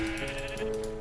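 A sheep in the video game Minecraft bleats in a short, clear, wavering cry that fills the moment, close and alone without talk.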